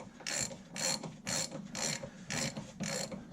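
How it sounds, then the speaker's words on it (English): A ratchet wrench unscrewing a bolt already broken loose on a vehicle draglink, clicking in about seven steady, evenly spaced bursts, close and fairly quiet. "Now she's just going to unscrew just like that right there."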